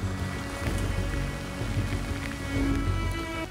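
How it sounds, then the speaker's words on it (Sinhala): Heavy rain pouring down in a forest, a dense continuous hiss of drops striking surfaces with a low rumbling undertone, steady and close with no voices. "හෙන්නම්ම සැරට වහින්න පටන් ගත්තා."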